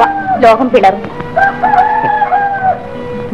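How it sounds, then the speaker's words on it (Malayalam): A rooster crows as a film sound effect in a 1967 Malayalam movie: a drawn-out, wavering call in the middle of the clip, close and clear, right after a brief spoken line. "കോഴി കൂവുന്നു."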